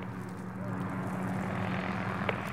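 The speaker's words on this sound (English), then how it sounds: "Barkov is sending in helicopters." A steady low droning engine roar of helicopters approaching in a Modern Warfare game, holding constant throughout with a brief click near the end.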